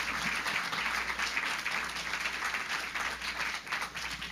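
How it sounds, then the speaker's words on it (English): Applause from an audience at a Revolutionary Love Tour talk, a continuous, fairly quiet wash of many hands clapping that goes on for over four seconds. "can we just give another round of applause for"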